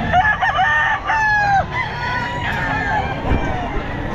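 Roosters crow at an outdoor pet market, with several long, loud calls close by and clucking in between, over a murmur of crowd chatter and people talking.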